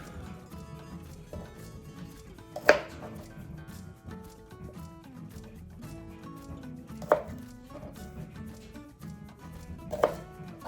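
A knife chopping the woody ends off asparagus for mushroom risotto: three crisp cutting thunks spaced a few seconds apart on a board, over quiet kitchen background and soft music.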